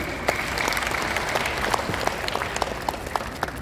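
Audience applause at a formal Indonesian ceremonial address by a minister of agriculture, honoring university professors and rectors; steady, dense clapping from a large crowd fills the whole stretch with scattered louder individual claps.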